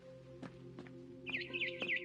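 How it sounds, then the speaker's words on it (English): Bright, quick bird chirps in the video game What Remains of Edith Finch, a few short tweets followed by a rapid warbling trill, heard over a soft steady tonal background. "Then I heard chirping outside my window."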